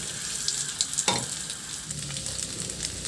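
Marinated pork frying in hot oil in a pan, a steady close sizzle with a few sharper crackles and spatters early on.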